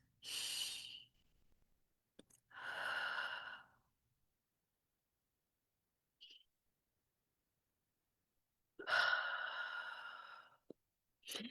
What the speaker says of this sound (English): So just breathe in and out just for 3 long sessions, 3 long breaths.